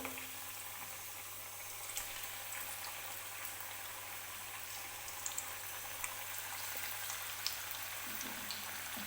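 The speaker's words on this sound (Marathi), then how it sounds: "मीडियम आचेवरती हे भजी जे आहेत ते आपल्याला तळून घ्यायचे आहेत" Bhaji frying in hot oil over medium heat, a steady faint sizzle with scattered crackles and pops that continue evenly throughout, no voices.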